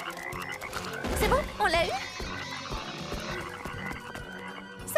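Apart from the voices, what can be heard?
frog croaking in a cartoon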